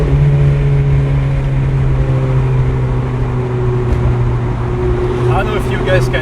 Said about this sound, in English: I don't know if you guys can hear the rumble, the sound is pretty loud.